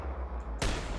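A sniper rifle fires in the Ski Sniper game, one sudden sharp crack cutting through a low rumbling background and ringing briefly afterward.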